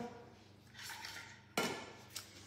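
A metal baking tray is pulled out in a kitchen while making gougères, giving one sharp clattering knock midway, then a lighter clink, over soft rustling handling noise.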